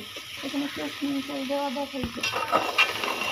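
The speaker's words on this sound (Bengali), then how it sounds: "এই তো এটাকে আমি এখন ভাজা ভাজা করে নিব" Chickpeas frying in a pan for a chickpea (chola boot) dish, with a steady close sizzle and scraping stirring throughout, plus a brief voice-like tone at the start.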